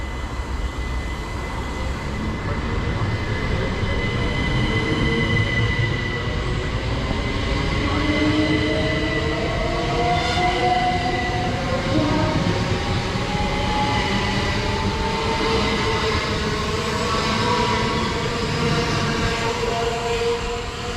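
Train pulling out of a platform at Staplehurst in Kent, bound for Ramsgate from London Charing Cross: a steady, loud rumble of wheels and motors with rising and falling tones, continuous and close, with faint voices beneath.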